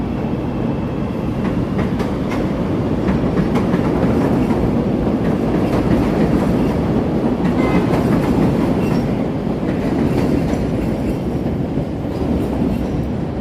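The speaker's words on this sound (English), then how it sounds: "Here comes the L train. Here comes I think it's a pink line." A Chicago L Pink Line elevated train passes close by, a loud steady rumble with rhythmic clickety-clack of wheels on rails throughout.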